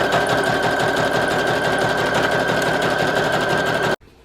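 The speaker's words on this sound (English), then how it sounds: "I am actually going to grab my sewing machine again and give that another sew" Sewing machine stitching over a paper envelope panel for a junk journal folio, a steady close mechanical whir with fast rhythmic needle pulses running about four seconds before stopping abruptly.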